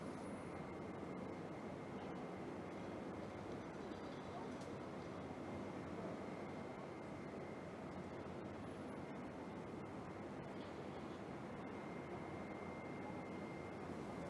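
A steady, droning propeller-plane engine hum runs throughout at a fairly constant level, distant-sounding with a faint high whine on top. A Douglas DC-3 lining up on the runway at the 2025 Paris Air Show, Le Bourget.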